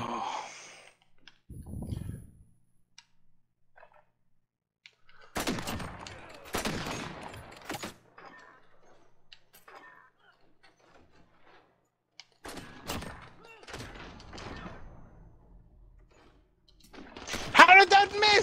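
Marksman rifle shots ring out in Call of Duty, a few sharp bursts spread through the round with gaps between them, mixed with game noise and players talking over the action.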